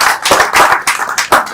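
A crowd at a funeral ceremony claps, the applause coming in uneven bursts of hand claps that swell and fade, close and loud, with no voices.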